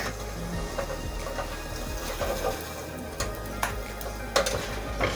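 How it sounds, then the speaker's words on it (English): A pancake fries in oil in a pan over very low heat, giving a steady soft sizzle with occasional scraping and clinks of a utensil against the pan, close and without talk. "It's time to start frying."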